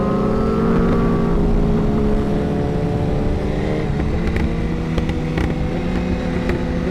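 A BMW S1000RR sportbike's rear wheel spins on a wet surface at a roll-racing event, the engine droning loud and steady with layered rising tones throughout, close and continuous.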